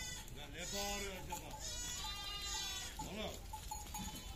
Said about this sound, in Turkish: burada da ceylan gibi alpin keçisi var arkadaşlar